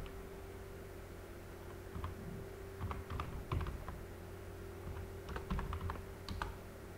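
Computer keyboard typing at a desk, with bursts of quick key clicks, close and clear, running over a steady electrical hum and soft background noise, with no talking.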